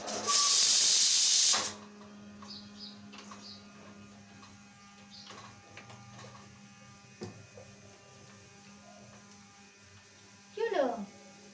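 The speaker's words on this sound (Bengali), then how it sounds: "বন্ধুরা একটু খিচুড়ি বসিয়েছি প্রেশার কুকারে" A pressure cooker cooking khichuri on a home stove lets out a loud, close steam hiss lasting under two seconds. Quieter kitchen and household sounds follow, with a short rattling burst near the end.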